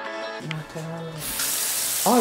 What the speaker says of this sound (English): Oh, water run now, cool.